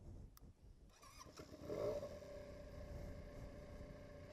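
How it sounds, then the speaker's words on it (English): A Benelli 300 motorcycle engine cranks over briefly and catches, then settles into a steady, low idle rumble that holds on through the end. "let's see how the bike starts"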